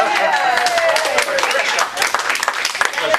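A room at a county commissioners' meeting breaks into a short burst of applause for a county staff member, many hands clapping quickly while a voice carries on over it.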